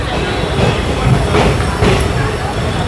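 An AC express train on its first run from Narsapur to Bengaluru rumbles steadily through Krishnarajapuram railway station, a continuous loud low roar with faint wheel clatter and brief surges, no clear talk.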